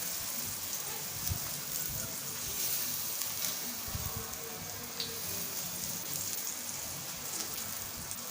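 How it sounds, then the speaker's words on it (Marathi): Gram flour batter is poured into a hot pan and sizzles steadily, a continuous crackling hiss with small pops, fairly close and even throughout. "हे जे आपलं मिश्रण आहे आपण बनवलेलं बेसनचं ते आपण टाकून घेऊया"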